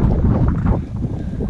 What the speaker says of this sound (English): it's really windy out here right now